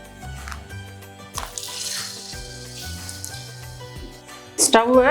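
Peanut murukku dough meets hot oil in a home kitchen, letting out a sudden rushing sizzle that fades into a softer hiss, while a person talks over it and a clatter ends the moment.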